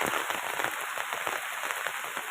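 Steady rain pours down on a garden plantation, a dense continuous hiss of drops with no voices.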